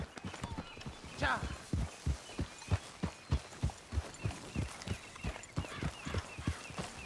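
Steady rhythmic clip-clop of horse hooves while riding in Red Dead Redemption 2, even paced strides close by, with a brief spoken word and some game ambience.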